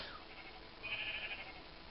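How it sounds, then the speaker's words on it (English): A single drawn-out sheep bleat from a video game, faint against a low background hum, with several sheep penned inside a small built house. "there's a lot of sheep in here"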